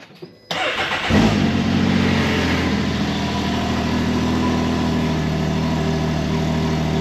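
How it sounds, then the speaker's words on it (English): A Can-Am Maverick X3 XRS side-by-side engine cranks and fires after a short quiet moment, then settles into a loud, steady idle close by inside a garage, with no talking. "now we're gonna start the car and let it run for 30 seconds"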